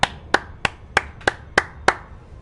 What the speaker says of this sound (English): Sorry for the claps.